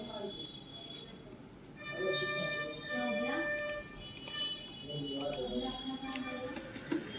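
Typing on a computer keyboard while writing CSS code, light scattered key clicks in short bursts beneath someone talking nearby throughout.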